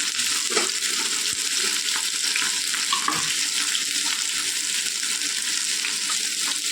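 Okra pieces fry in oil in a pan with a steady, close sizzle, broken by occasional crackles and the clack of a stirring spoon, and no speech over it.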